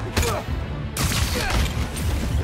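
Bursts of enemy gunfire in Spider-Man: Miles Morales crackle in several loud, close volleys over a noisy combat backdrop.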